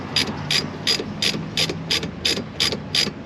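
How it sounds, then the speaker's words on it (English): A hand ratchet snugs a rear brake bolt on a Honda CR-V with a steady run of about ten crisp, evenly spaced clicks that sound close and clear, and no voice is heard. "You can take a socket or a ratchet, or like, you know, a box end, or a pair of pliers, and just hold it and snug it down."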